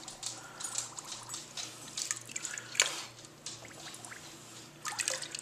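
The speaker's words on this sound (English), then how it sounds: "we put the hydrometer 6 inches under the water till it fills up to the fill line" A hydrometer is held underwater in saltwater and fills, giving small irregular drips, gurgles and bubbling trickles close by, quiet, with a faint low hum behind.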